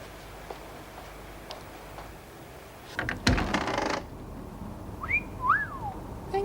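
A person gives a rising-falling wolf whistle at a woman, a couple of short tones heard close after some door-like clatter in a quiet room.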